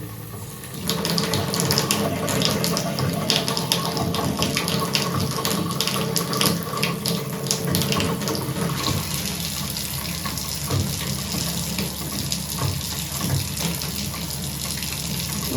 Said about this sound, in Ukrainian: Давайте тепер збільшимо напор води.